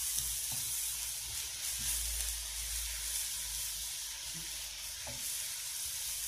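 Potatoes frying in hot oil give a steady, close sizzle that runs throughout, with a few brief stirring clicks and no voices.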